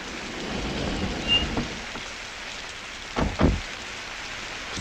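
Steady rain falls in Pyongyang, a soft continuous hiss with a few heavier splashes and thumps, and no voices.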